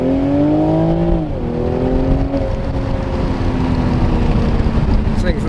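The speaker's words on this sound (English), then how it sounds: "I don't know if you can hear the turbo spool. It is loud." A Toyota A90 Supra accelerates hard in a quick pull, its engine note climbing steadily with a loud whistling turbo spool riding over the exhaust, close and continuous.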